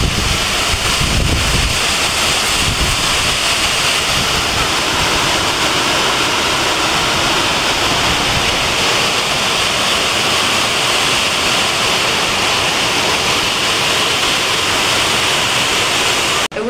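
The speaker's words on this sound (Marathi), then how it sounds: "एवढा जोरात अचानक पाऊस आला" Sudden heavy rain pours down in a dense, unbroken hiss and roar, loud and close throughout, with wind-like rumble and no talking.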